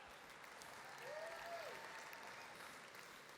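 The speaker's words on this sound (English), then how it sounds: "Dan Nevins, another round of applause." Distant crowd applause, a steady wash of clapping that swells slightly midway, faint and continuous throughout.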